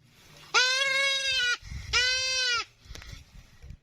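A goat bleats twice while being attacked by a Komodo dragon: two loud, strained cries about a second each, separated by a short gap of scuffling and thuds.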